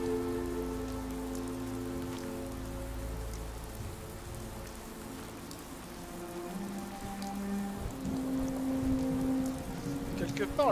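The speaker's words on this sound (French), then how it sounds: "la pluie est pratique." Rain falling in the Fallout 4 video game, a soft continuous patter beneath low game ambience and tonal hums, with a brief louder shift near the end.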